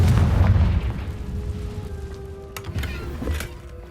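Confringo fire spell blasting in the game Hogwarts Legacy: a heavy booming explosion that rumbles and fades over a few seconds, followed by faint magical chimes and crackles.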